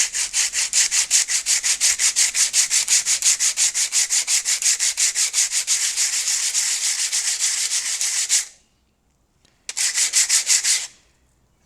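A motorcycle brake pad is rubbed back and forth on an old sanding belt laid flat. The scrubbing strokes are rhythmic, rasping and close, about four per second, stopping briefly before a final short burst.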